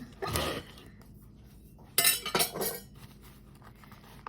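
A bread knife saws through a freshly baked homemade loaf, with a brief scraping burst near the start and then a tighter cluster of crusty strokes a moment later, close by and otherwise quiet.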